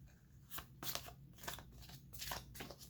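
Oracle cards being shuffled in quick, crisp riffles, several bursts in a row, close and fairly quiet with no talking.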